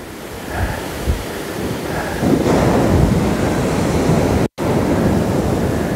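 Surf breaking on the beach at Kalbarri, Western Australia, a steady broadband wash of waves with wind buffeting the microphone, swelling louder partway through and cut by a brief dropout near the end.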